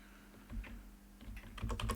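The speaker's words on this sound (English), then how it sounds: "So I'm just typing it line by line as scratch." Typing on a computer keyboard while code is entered line by line, a run of close, crisp key clicks that starts sparse and grows denser and quicker toward the end.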